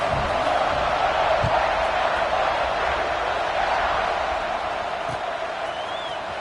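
Steady stadium crowd roar from a USC vs Ohio State game in EA College Football 26, a dense, continuous wash of many voices at an even level throughout, with no distinct cheers standing out.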